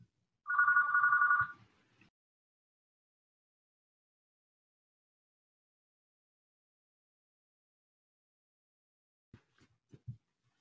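A hotel room telephone rings once in a single loud burst of electronic trilling lasting just over a second, followed by long silence and a few faint handling knocks near the end.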